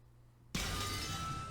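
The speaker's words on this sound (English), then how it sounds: "There was a violent sound of glass breaking." A glass-breaking sound effect from the Umineko visual novel game: a sudden loud crash after a quiet lead-in, followed by a sustained bright shattering wash.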